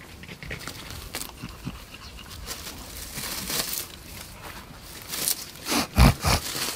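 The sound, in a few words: dogs panting and moving around pulled weeds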